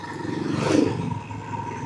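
A motorcycle rides along a country road in rural Madagascar during the rainy season, its engine giving a steady moderate drone that swells briefly to a louder rising whine before settling back.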